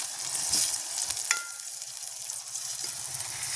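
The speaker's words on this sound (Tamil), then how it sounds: "கத்திரிக்காயோட கத்திரிக்காயை கிண்டி விடுவோம் பொரியட்டும்" Eggplant frying in oil on a village stove is stirred, a busy sizzle broken by scraping and clattering from the spoon moving through the pan.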